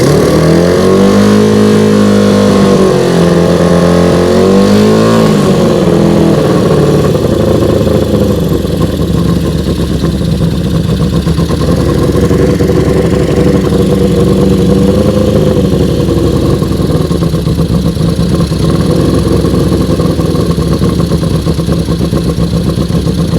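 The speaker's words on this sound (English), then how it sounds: "let's see if it starts right back up. Let's hit the button, turn the key." A Honda CB350 Four motorcycle engine runs steadily at a loud, close idle for the whole stretch, its pitch wavering early on as it settles.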